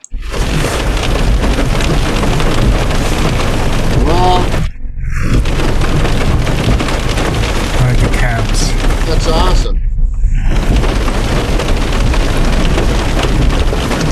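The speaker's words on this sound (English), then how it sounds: "Just the car, the rain on the car." Steady heavy drumming of rain on a car roof fills the clip, loud and continuous, with people talking over it and two brief quiet gaps.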